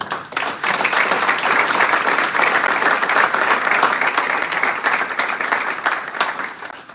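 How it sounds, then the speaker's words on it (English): An audience at a college alumni awards ceremony applauds a Distinguished Alumnus of the Year honoree, with full, continuous clapping throughout and no voices. "Please join me again in another round of applause for this year's Distinguished Alumnus of the Year"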